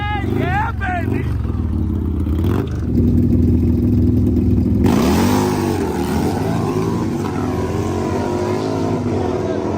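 Harley drag motorcycles at an underground street race, engines revving with rising and falling pitch sweeps and a sustained loud roar, with voices talking and shouting over the noise.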